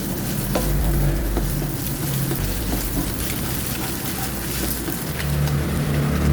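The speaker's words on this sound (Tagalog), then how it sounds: "Iprito lang natin ang ating ham. Hiniwa ko na ito sa maliliit." Diced ham frying in cooking oil in a pan, a steady close sizzle with faint crackle running throughout, no voices.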